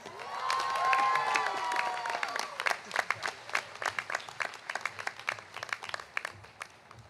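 A graduation ceremony crowd at Woodbury University applauds, a dense wash of clapping and some cheering that thins into scattered individual claps toward the end.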